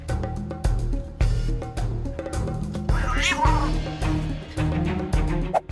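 Cats yowl and meow in a drawn-out, strained exchange, with loud tonal cries coming one after another and a harsh squall in the middle.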